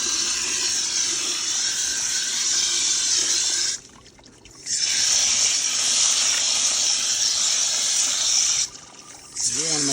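Running water rinses grit from rock tumbler beads poured into a strainer over a bucket, a steady splashing hiss that stops twice briefly before resuming.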